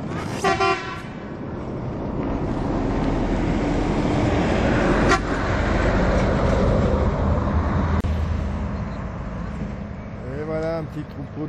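Truck horns honk on a road in Turkey amid continuous loud traffic noise, with short horn blasts near the start, middle and end over a rumbling engine bed.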